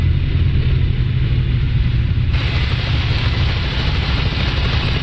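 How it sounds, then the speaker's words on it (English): Helicopter in American Truck Simulator, a deep steady rotor and engine rumble that holds loud and constant, joined by a brighter hiss partway through. "Oh yeah, there is a chopper there."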